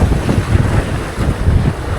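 Strong wind buffets the microphone in loud, gusty rumbles as rain begins, with a constant roar and surging low-frequency blasts throughout.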